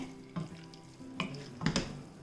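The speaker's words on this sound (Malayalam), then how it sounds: "ഇനി അടപ്പ് മാറ്റിയിട്ട് ഒന്ന് ഇളക്കി കൊടുക്കാം" A spoon stirring spicy tomato rice in a pot, with soft scraping and a few brief clinks and shuffles against a faint simmering hiss, quiet and close, with no talking.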